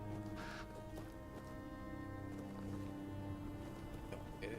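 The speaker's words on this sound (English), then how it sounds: "I heard a bird." A crow caws once in Tainted Grail: Fall of Avalon, a short, fairly faint call set against a low, constant ambient drone and soft background tones.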